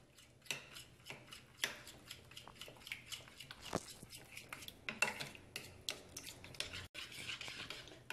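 A spoon mixes chocolate ganache in a bowl with quick, repeated scraping clinks in a steady rhythm, close and fairly quiet.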